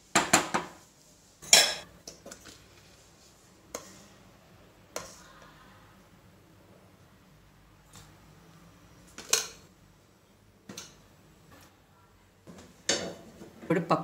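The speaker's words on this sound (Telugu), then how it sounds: "ఇప్పుడు పప్పు గుత్తితో బాగా మ్యాష్ చేసుకుందాం." Cooked dal mashed in a pressure cooker pot with a wooden masher: sharp intermittent knocks and clacks against the vessel, with quieter squelchy scraping between them, close up.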